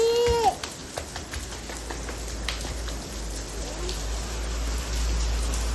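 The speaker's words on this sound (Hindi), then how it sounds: "बारिश हो रही है।" Steady rain patters down on surfaces, a continuous wash of drops, with a brief voice-like sound at the very start.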